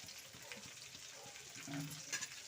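Amla (Indian gooseberry) roasts in a pan, giving a faint, steady sizzle broken by scraping stirs and a couple of brief clinks near the end.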